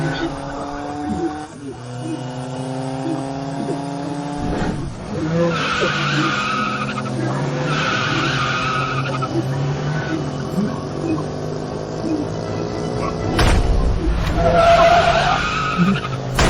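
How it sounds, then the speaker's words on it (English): Two cars chase and speed along a road with squealing, skidding tyres and rising engine whine. The skids are loud and long and crescendo near the end, with voices speaking over the action. "Miss Summers, those 2 cars behind us seem to be coming right for us."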